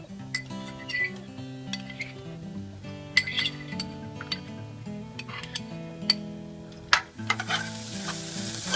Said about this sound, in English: I will add the carrot also.